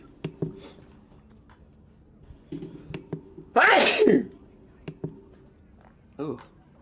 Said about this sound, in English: so I sneezed a couple of times